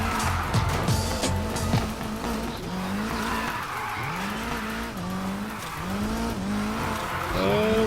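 A Nissan 350Z drifting in Need for Speed Heat, its engine revving and tires squealing in long, wavering screeches through sustained slides, loud and close with brief gear-change dips.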